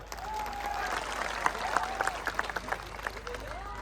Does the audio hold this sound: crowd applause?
yes